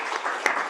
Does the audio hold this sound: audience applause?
yes